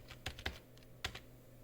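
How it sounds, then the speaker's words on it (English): A few separate keystrokes on a computer keyboard, quiet and close, typed in short bursts with gaps while a quiz question is entered, with no talk over it. "So we're going to type up here test,"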